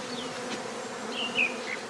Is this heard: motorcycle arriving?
no